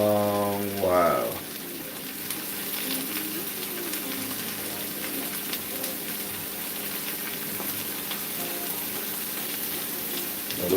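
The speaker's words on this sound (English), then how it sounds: "Now those are going to be nicely fried and done." Tofu steaks frying in a pan, a steady broadband sizzle running continuously at moderate level after a brief voice at the start, with faint clatter underneath.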